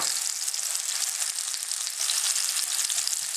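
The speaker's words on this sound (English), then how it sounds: "Now, I'm going to give this another quick stir" A simmering dish bubbling and sizzling in a pan, a steady hiss with faint light ticks of a spoon stirring through it.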